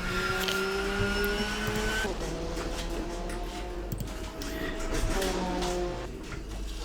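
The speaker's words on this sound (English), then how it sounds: "So we'll just ride here with Peter McCann as he comes through Blanchimont." A GT race car in a sim racing game laps Spa through Blanchimont, its engine droning loud and steady with pitch rising and falling through gear changes, while commentary carries on faintly underneath.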